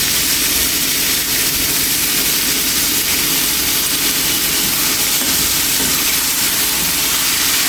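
Four chopped onions sauté in a pan with a loud, continuous hiss and sizzle, dense and unbroken close by, with no talking.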